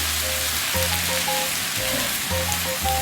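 Onions sautéing in a pan for cornbread dressing, a steady close sizzle with faint scraping and a low background hum running throughout, no talking over it.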